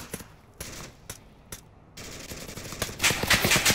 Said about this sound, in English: Oh, I'm getting shot at too.